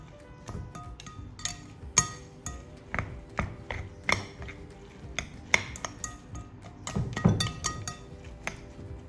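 A utensil stirs Vietnamese spring roll filling mixed with eggs in a bowl, giving a steady run of sharp clinks and taps against the bowl, close and fairly quiet, with no talking.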